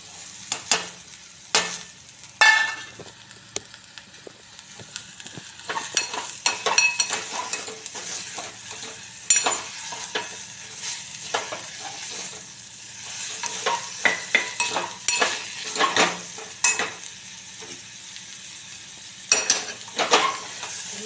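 Bitter gourd (karela) stir-fried with spices in a pan, a steady sizzle with frequent scraping and clinking of a spoon against metal, close and busy for about twenty seconds with no voices.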